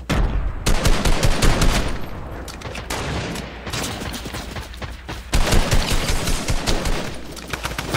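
Video game battle with sniper rifles and other weapons, dense loud bursts of rapid gunfire in several waves, with brief lulls between the volleys and no clear speech.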